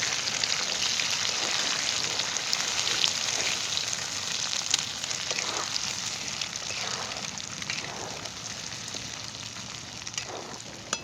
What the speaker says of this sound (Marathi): सगळी अंडी टाकून घेतली आता मस्त हलवून घेतली